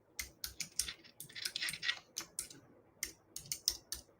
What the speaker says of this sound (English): let me see if I can type in